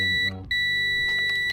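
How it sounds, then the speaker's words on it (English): A multimeter tester gives a steady, clear electronic beep as its two leads touch together during E30 wiring work, with one brief dip partway through. "by touching the two terminals together, or the two leads, and you'll hear a beep"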